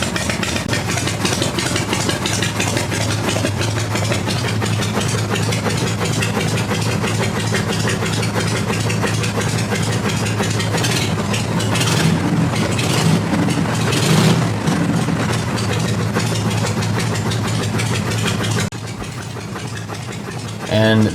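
A 1975 Harley-Davidson FLH Shovelhead engine idling close and loud during carburetor tuning, a steady lumpy thumping throb with small rises in revs near the middle, dropping off briefly near the end.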